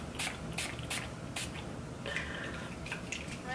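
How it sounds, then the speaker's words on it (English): Makeup setting spray mists out in a run of short, crisp hisses, four quick bursts and then a few softer sprays, close and with no talking. "so let's just go ahead and give this a quick spray"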